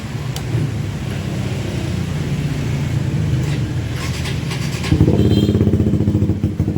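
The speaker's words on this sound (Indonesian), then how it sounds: "saya akan coba starter, coba hidupkan apakah aki ini masih bisa dipakai untuk double starter atau tidak" Vehicle engine running on an old, nearly flat battery, with a steady low rumble that turns into a louder, rougher throb partway through, close to the listener.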